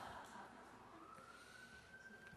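A siren sounds faintly outside, a thin, distant wailing tone held over quiet background noise.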